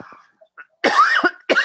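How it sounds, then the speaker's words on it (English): A few short coughs from one person, close and loud, with quiet breaths and throat sounds between them. "Please excuse me, I have a little cough."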